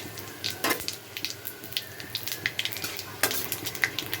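Two dried red chillies and five-spice seeds hiss in hot mustard oil in a kadai. The close, steady sizzle is broken by scraping stirs and brief clinks from the spoon.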